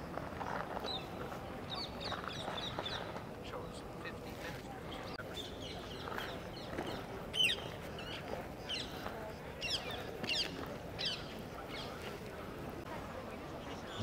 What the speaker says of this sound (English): Birds in Athens are really something.